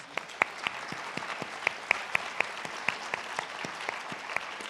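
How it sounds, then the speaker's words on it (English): A smallish audience at a conference Q&A session claps for the presenters, with sparse individual claps standing out sharply over a softer patter that continues steadily throughout. "If we could have a round of applause one more time for our presenters."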